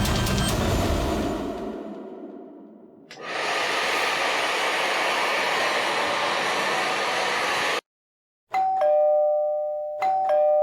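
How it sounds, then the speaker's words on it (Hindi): A hair dryer roars steadily, cuts out briefly, then a doorbell chimes twice with clear electronic tones over the dryer's hum. "एसी और हेयर ड्रायर की आवाज के ऊपर भी बेल की आवाज साफ सुनाई दे रही है।"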